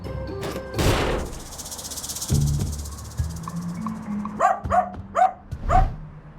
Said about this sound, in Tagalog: Dapat kinukulong nyo yung mga aso nyo eh.